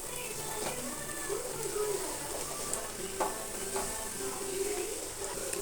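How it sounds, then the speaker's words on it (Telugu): Onion and green chilli mixture frying in a pan, a steady close sizzle with light stirring scrapes and occasional clinks, no talking. "ఇది పచ్చి స్మెల్ పోయేంత వరకు ఫ్రై చేసేసుకొని దీంట్లో క్యాబేజ్ యాడ్ చేసుకుందాం."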